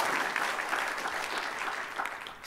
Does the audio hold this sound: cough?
no